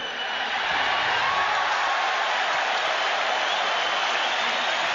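Rugby World Cup stadium crowd in Cape Town during South Africa versus Australia in 1995, a broad, continuous roar of cheering spectators that swells slightly and then holds steady.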